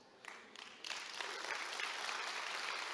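A church congregation breaks into applause, starting with a few scattered claps and swelling into dense, sustained clapping from a large crowd.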